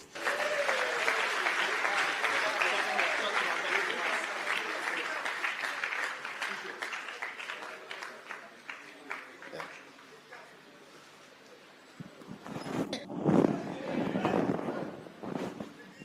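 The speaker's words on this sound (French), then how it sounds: "Applaudissez pour eux." Church audience applause at a Freetown, Sierra Leone gathering, a dense steady clatter of many hands that fades around the midpoint, then swells briefly again with voices mixed in.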